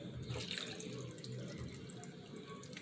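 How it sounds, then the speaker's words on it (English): Steady running water from a tap splashing into a sink, continuous and fairly close, lasting the whole stretch with no talking. "I'm gonna add some water"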